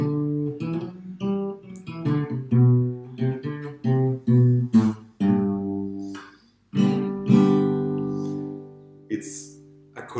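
A guitar plays a run of separate notes from a musical scale, each note ringing and decaying before the next, starting quick and even, then slowing into longer sustained tones near the end.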